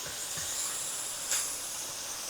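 Onions water-frying in a pan give off a steady, close hiss of steam with a brief sharper flare partway through and no voices.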